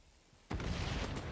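Grenade exploding in the shooter video game XDefiant, a sudden loud boom after a quiet moment, followed by a rumbling, crackling tail.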